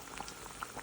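Jaffna-style chicken curry in coconut milk bubbles gently over a slow flame, with soft irregular pops and blips rising from the thick gravy, close and quiet, no voices.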